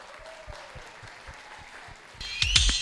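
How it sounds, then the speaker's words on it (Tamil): Applause welcomes a speaker at a Deepavali celebration. The room is quiet with soft thumps at first, then loud clapping from the audience breaks out and grows toward the end. "எல்லாரும் ஒரு பெரிய கைத்தட்டலோட please help me in welcoming mister Solomon Samson"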